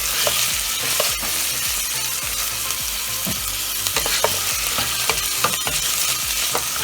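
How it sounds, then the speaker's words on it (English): Celery and garlic stirred in a pot for homemade chicken noodle soup, a steady sizzle with repeated scraping clinks of the spoon against the pot, close and fairly loud with no talking. "I'm just going to mix all that together."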